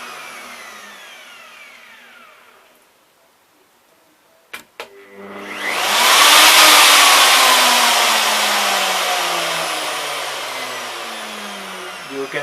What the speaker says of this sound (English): This machine starts very smoothly when you press.